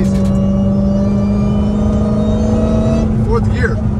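Dodge Hellcat Redeye with a new cold air intake, a loud steady engine drone with a prominent sustained whine while driving in fourth gear, close up, with brief voices near the end.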